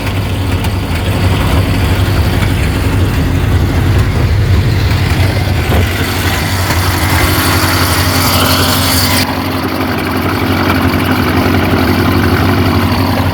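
A neglected 1950 Ford with a flathead engine idles steadily, its low rumble loud and continuous close by, with no talking over it.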